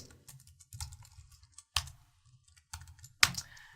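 Typing on a computer keyboard during programming: irregular bursts of close key taps, with a few louder strikes standing out, quiet overall and with no voices.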